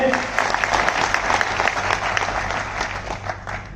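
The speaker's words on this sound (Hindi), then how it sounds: "तो एक बार सुपरस्टार के लिए जोरदार ताली होनी चाहिए।" An audience at a business plan seminar in Delhi bursts into loud, dense applause that holds steady and fades slightly toward the end.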